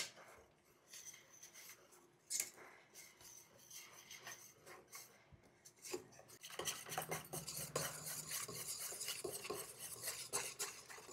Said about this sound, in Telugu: అలా ఒక 10 నిమిషాలు కలపాలి.